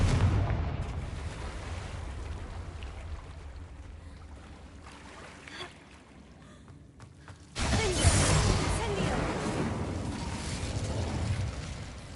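In the video game Hogwarts Legacy, a Confringo explosion spell lets out a dense rushing blast that eases into a quieter spell and then surges back in a loud, sustained roar, with no talking.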